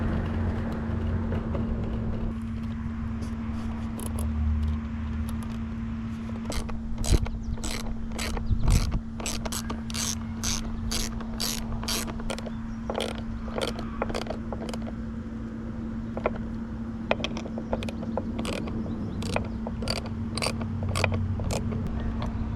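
A ratchet wrench tightening 8 mm-head rear light bolts on a 2023 Kawasaki Ninja 650 during a fender eliminator install: runs of quick, crisp clicks close by over a steady low hum, with pauses between strokes.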